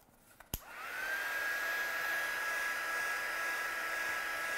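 A hair dryer dries ink on a handmade card, switching on after a small click and settling into a steady, close whooshing blow with a thin high whine.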